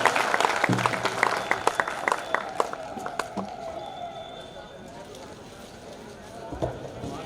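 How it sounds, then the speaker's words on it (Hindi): Audience at an outdoor Hindi poetry gathering (kavi sammelan) in Vidisha claps after a recited song, a burst of scattered, uneven claps that thins out and fades over several seconds, with a voice coming through faintly. "गीत अच्छा लगा हो तो एक बार तालियां बजा दीजिए।"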